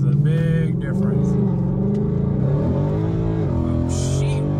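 A Ford Mustang GT on newly fitted wheels drives and accelerates, its engine note rising in steady harmonic bands that climb in pitch as it pulls, loud and close from inside the car, with talk over it.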